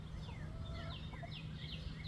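Backyard chickens clucking, several short, rising and falling calls overlapping at moderate distance over a low steady hum, with no talk.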